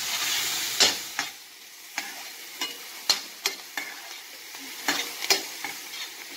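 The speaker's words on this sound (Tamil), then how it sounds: "நல்லா கொஞ்சம் ஆனியன் ரொம்ப வதங்கணும் அவசியம் இல்லை, லைட்டாக வதங்கினா போதும்" Onions sautéing lightly in a pan for veg spring rolls give a steady soft sizzle, broken by repeated sharp scrapes and clacks of a spatula stirring at an uneven rhythm.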